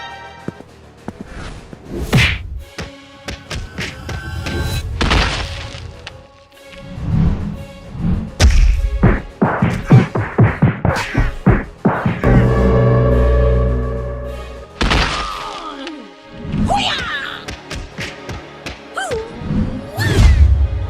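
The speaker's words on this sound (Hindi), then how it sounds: "एक जोरदार किक मारती है" Animated cartoon fight scene full of sound effects: repeated smashes, whacks, thuds and whooshes in quick succession, including a hard kick impact, loud and close over a busy score.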